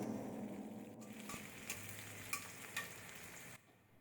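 Sliced onion and green chilies fry in hot oil in a wok, giving a soft, continuous sizzle with a few sharp crackles and stirring clicks before the sound drops away near the end.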